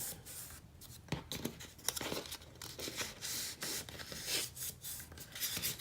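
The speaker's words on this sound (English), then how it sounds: "now you want to fold in on your score line" Paper being folded along a score line for a vintage traveler box set, close dry rubbing and crinkling strokes in short repeated bursts, no talk.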